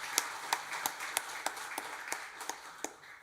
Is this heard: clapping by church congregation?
yes